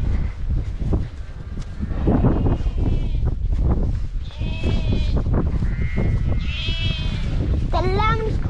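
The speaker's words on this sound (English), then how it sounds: "The lamb's calling for his mum because he doesn't know where it is." A lamb in a field of ewes bleats repeatedly for its mother, with several wavering calls of varying pitch, some near and some farther off, over a rumbling outdoor background.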